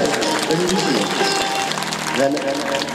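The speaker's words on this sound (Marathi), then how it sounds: "एकदा त्यांच्यासाठी जोरदार टाळ्या जोरदार झाल्या पाहिजे" Dense, loud applause from a crowd at a Shiv Mahapuran religious discourse in Pawnar, steady for the whole stretch with a voice audible over it.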